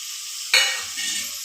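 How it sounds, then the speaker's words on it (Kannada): Coriander, cinnamon, clove, poppy seeds and roasted gram hit hot oil in a pan for egg chicken sambar masala, a sharp sizzle bursting in over a steady hiss, followed by a few soft stirring scrapes. "ಇದನ್ನು ಫ್ರೈ ಮಾಡ್ಕೊಳ್ಳಿ."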